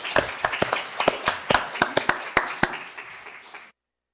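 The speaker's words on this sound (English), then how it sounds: "Oh, yeah, I guess we should applaud." Sparse clapping from a small group at a school board meeting, a dozen or so distinct close claps at an uneven pace that thin out before stopping abruptly.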